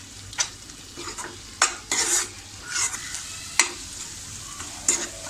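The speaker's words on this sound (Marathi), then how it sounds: "हे सुद्धा व्यवस्थित जर आपण एकजीव होईपर्यंत परतून घेऊया" Masala with turmeric sautés in oil in a pan for Dhaba-style chicken lapeta, a steady crackling sizzle with repeated crisp scrapes and knocks of a spoon stirring, close and clear with no talk.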